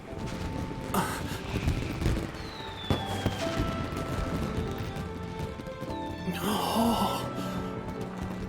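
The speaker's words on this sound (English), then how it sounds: "Shoot fireworks at him." Fireworks shot in the Genshin Impact video game, two loud crackling bursts, one early and a longer one near the end, over a busy layer of game sounds and music.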